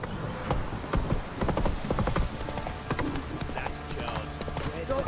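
Horse hooves clip-clop in the video game The Witcher 3, a close, steady rhythm of hard knocking steps for the whole stretch, with a voice speaking briefly alongside.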